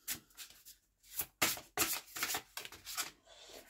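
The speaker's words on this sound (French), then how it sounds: "On va tirer 6 cartes." Tarot cards are shuffled and drawn in soft, papery bursts of riffling and sliding, close up and quiet, with brief pauses between handfuls.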